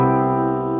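A sustained electronic keyboard chord rings out steadily, its tones held evenly for under a second with no talking.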